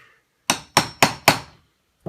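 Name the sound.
hammering a bigger punch to enlarge a hole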